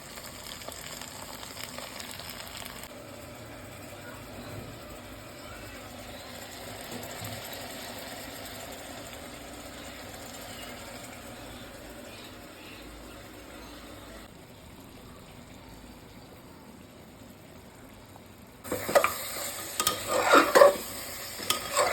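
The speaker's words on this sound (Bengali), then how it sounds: "আমার মাংসটা ভাজা ভাজা হয়ে গেছে, আমি মশলাটা দিয়ে দেবো।" Mutton frying with spices in a pan, a steady low sizzle with metal stirring scrapes throughout, turning louder and busier with clattering stirring near the end; no talking.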